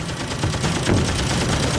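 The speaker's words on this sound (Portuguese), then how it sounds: "As metralhadoras calibre 50 do Hellcat são capazes de disparar 400 tiros por minuto." Rapid .50 calibre machine gun fire from a Hellcat fighter, a dense continuous roar of overlapping shots at about 400 rounds per minute, loud and close with no pauses.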